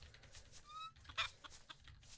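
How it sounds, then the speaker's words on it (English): Chickens clucking in the farming game Travellers Rest, faint short clucks and a brief squawk over a quiet low background hum. "I have 4 chickens."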